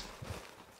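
Horse hooves clip-clop a couple of times in Red Dead Redemption 2, brief and soft over a dense, muffled game background.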